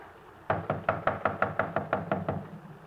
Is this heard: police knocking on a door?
yes